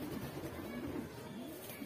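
Gola pigeons coo in soft, continuous rolling murmurs close by, several birds layering their low calls throughout without pause.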